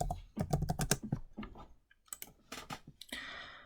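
Keys clatter on a computer keyboard as a template name is entered, quick bursts of clicks in an uneven rhythm with short pauses between runs, close and fairly quiet, with no talking.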